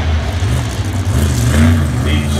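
The Lumberjack monster truck, driven by Christopher Solicki at a freestyle event, revs its engine in a low, loud rumble while an announcer talks over it.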